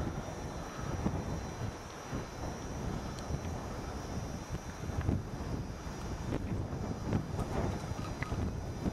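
Steady wind buffeting the microphone at Arches National Park, a constant low rumble with gusty swells throughout, no voices.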